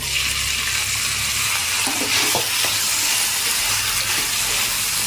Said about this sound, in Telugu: ఇప్పుడు చిక్కుడుగాయలు వేసుకుందాం చిక్కుడుగాయలు వేసేస్తాం